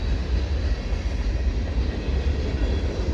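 Steady heavy rumble and faint wheel clatter from a passing CP freight train with a heritage SD70ACU locomotive, loud and continuous throughout on a winter afternoon.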